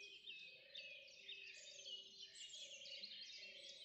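Several birds chirp and twitter outdoors in a steady, fairly close chorus of high repeated calls, with a faint low hum beneath them.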